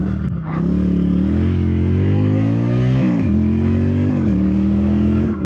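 The engine of a 2025 CFMOTO 450 CL-C motorcycle with automatic transmission revs loud and close, climbing and dropping in pitch through a few surges as a downshift is attempted.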